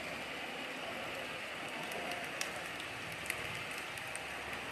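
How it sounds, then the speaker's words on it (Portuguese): Steady rain pours in a Lord of the Rings video game scene set at an inn in Bree, a dense continuous hiss with a few faint crackles and no clear thunderclap or talk. "Mas ela fica só ouvindo o barulho da chuva e dos trovões."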